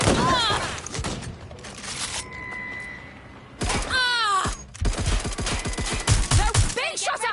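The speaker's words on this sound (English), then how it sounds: "Shots fired!" Gunfire in the video game Watch Dogs Legion crackles in rapid bursts among shouting and grunting voices, loud and close, with a quieter electronic stretch in between.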